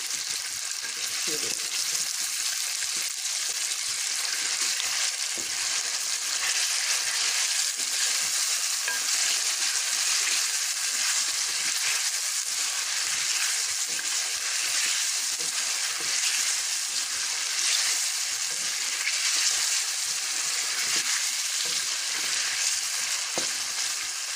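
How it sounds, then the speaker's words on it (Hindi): Half a kilo of chicken and a medium onion fry in half a cup of oil in a kadai over medium flame, giving a loud, continuous, even sizzle throughout with no voices. "आधा किलो चिकन, एक दरमियानी साइज़ की प्याज डालकर मैं इसको फ्राई कर रही हूँ"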